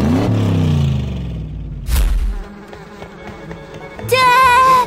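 Buzzing swarm of cartoon bees during a beehive removal, a loud droning whine that sweeps and wavers, broken by a brief crash and then a high, trilling buzz rising at the end.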